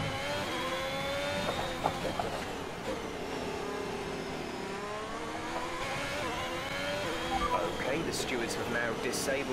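A Formula 1 car engine in F1 2021 at the Belgian circuit wails at high revs, then winds down as the throttle lifts off. The tone falls and wavers, with someone talking over it throughout.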